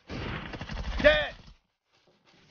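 Rapid gunfire from a team deathmatch video game, a burst of shots packed into the first second and a half under talk, then near silence.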